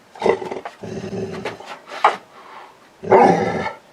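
A dog lets out several close, loud barks and gruff vocalisations in uneven bursts separated by short pauses, with no talking heard.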